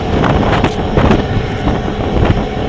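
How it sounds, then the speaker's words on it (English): Strong wind buffets the microphone aboard a boat crossing New York Harbor, a loud, continuous gusty roar with low rumbling. "It's gonna get a little windy here."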